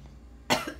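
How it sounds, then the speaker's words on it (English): Two sharp coughs from a child, close by, the second following shortly after the first, with quiet room noise before them. "that really is a bad cough"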